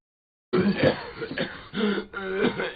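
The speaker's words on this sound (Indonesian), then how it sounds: "suara kakek yang lagi batuk" After a short silence, an old man coughs in several rough, raspy bursts close up, with brief pauses between fits.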